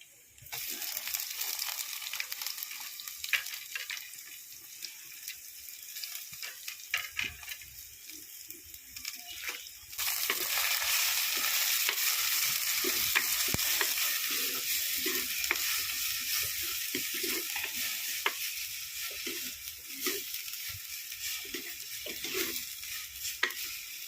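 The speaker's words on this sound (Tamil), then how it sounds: "நம்ம வெங்காயத்தை போட்டு" Onions frying in oil in a pan for egg curry, a continuous hissing sizzle with intermittent scraping stirs of a spoon, getting louder partway through and holding steady to the end.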